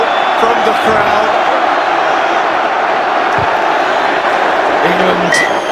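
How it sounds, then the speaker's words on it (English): A large rugby stadium crowd at an England vs South Africa match keeps up a steady, loud roar of chanting and noise throughout, with a commentator's voice faintly mixed in. "Play for the crowd is the call from the crowd"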